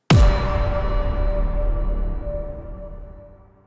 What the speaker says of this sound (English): And this is the sound of you hitting an enemy.